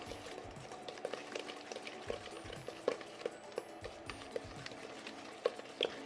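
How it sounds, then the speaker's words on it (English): Pumpkin bread batter being stirred in a bowl, steady wet mixing with regular soft clicks of a utensil against the side, close and alone. "And we're gonna mix all this up."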